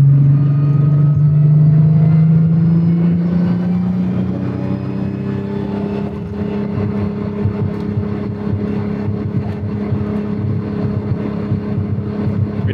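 A tuned turbocharged VW Golf engine pulls hard under acceleration, its steady rising drone held loud and close with road and wind noise.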